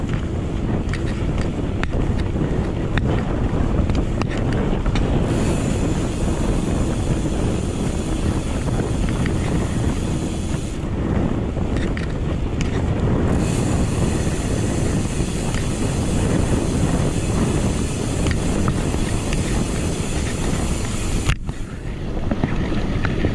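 Strong wind roars constantly over a microphone during a ride through a wind farm near Riyadh, a loud, unbroken buffeting rush with slight shifts in tone and a brief dip near the end.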